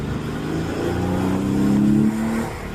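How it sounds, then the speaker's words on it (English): A Porsche 993 exhaust with Pfister Stage 2 aftermarket mufflers burbles and rises in pitch as the engine revs, a loud, throaty, close-up rumble. "This thing has the Pfister Stage 2 mufflers, which is awesome. Sounds really good."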